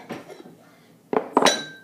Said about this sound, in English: let me get some dishes